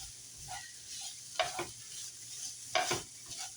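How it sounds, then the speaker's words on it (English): Steak meat sizzles steadily in a pan with pasta as it toasts, a soft continuous frying hiss broken by a few louder stirring scrapes. "I just want to get the meat a little toasted up"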